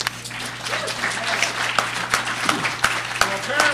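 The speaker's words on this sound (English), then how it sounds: "A little applause, perhaps?" Scattered audience applause in a mock debate setting with Thomas Jefferson presenting the Constitution, moderate claps spread across a few seconds with a steady low hum beneath and some murmuring.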